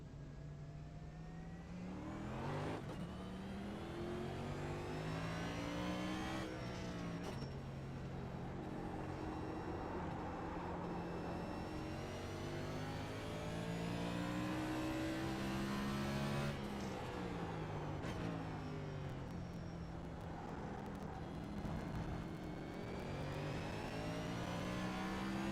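A Next Gen stock car engine in the iRacing sim revs continuously on the COTA road course, rising and falling with gear shifts and throttle changes, loud and steady throughout with no talking.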